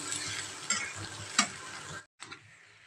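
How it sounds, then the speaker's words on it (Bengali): Soybean chunks frying with onion, garlic and chilli: a dense, close sizzle with light stirring scrapes that cuts out for a moment near the end, then returns more quietly. "সয়াবিনগুলো একটু ভাজা ভাজা করে আলুটা দেব"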